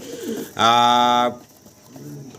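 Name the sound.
short face pigeons cooing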